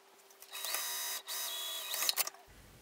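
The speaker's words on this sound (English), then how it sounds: "you're just going to sew along the bottom a quarter of an inch seam allowance" Sewing machine running a straight quarter-inch seam along the bottom of a clutch wallet, a steady mechanical whir in two close bursts with a brief pause between, no talking.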